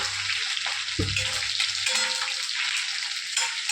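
Steady hiss of spices frying in hot ghee, continuous sizzle with a sharp burst of crackling as something hits the pan early on.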